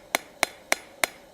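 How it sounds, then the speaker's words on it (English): Ball peen hammer texturing a hot forged ladle handle, five quick evenly spaced ringing metallic strikes at close range, each a sharp clang with short decay, no talk. "Quick, rapid hammer blows will do that."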